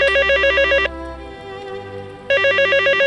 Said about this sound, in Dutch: Telefoon.